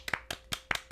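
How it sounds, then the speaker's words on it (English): Light, polite golf claps on a podcast, five quick isolated pairs of hand claps at an even pace, close and fairly quiet with no talking. "Golf claps."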